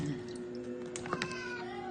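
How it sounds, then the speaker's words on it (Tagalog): Cats meow while being fed, giving several short close meows over a soft steady background hum. "magpapakain ako ng pusa"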